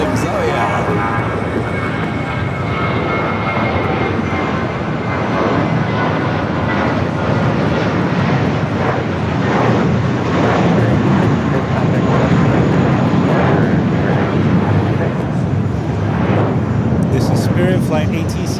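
A jet airliner roars loudly and steadily at Los Angeles LAX airport, its engine rumble swelling gradually and filling the whole stretch with no break.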